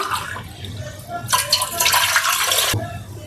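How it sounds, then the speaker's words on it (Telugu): Water is poured into rice flour in a vessel, a brief gushing splash of about a second and a half that rises over a quieter low kitchen background. "2 గ్లాసుల బియ్యపిండికి 4 గ్లాసుల నీళ్ళు పోసుకోవాలి."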